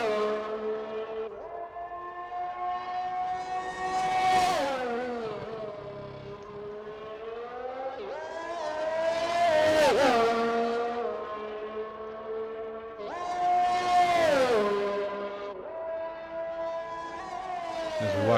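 Formula One race car engine in an F1 video game on an out lap at the Australia circuit, a high-pitched whine that climbs and drops through the gears in repeated surges, loud and continuous with no talk.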